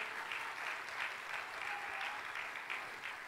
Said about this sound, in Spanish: Si va a aplaudirle esta mañana, apláudele al Señor